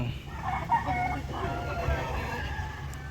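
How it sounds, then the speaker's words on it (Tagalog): White Leghorn chickens clucking with a rooster-like call amid steady farmyard background noise and some indistinct voices. "So ayan oh, mga white leghorn ito."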